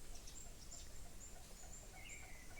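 Kamokmok chickens, a breeding pair with their young chicks: faint, high peeping calls repeat over a quiet, steady background hiss.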